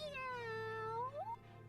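A single drawn-out cat meow from the video game Tales of Graces f, rising then bending upward at the end, clear and close over a low background hum.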